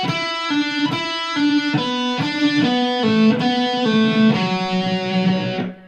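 Electric guitar with effects plays a lick, a clear sequence of sustained, bending notes ringing out alone before fading at the end.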